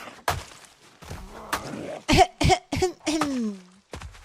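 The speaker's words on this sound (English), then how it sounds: "Smoker cough." A female character's harsh smoker cough in the zombie survival game Project Zomboid, a run of several hoarse, close coughs and throat-clearing rasps with short gaps, ending in a strained groan.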